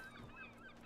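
A chicken in the video game Skyrim gives a short, close, nasal honking cluck that lasts under a second.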